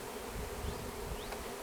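Bees buzzing steadily around a newly installed hive on a ranch, agitated and unsettled, a continuous close drone with a few higher whines passing by.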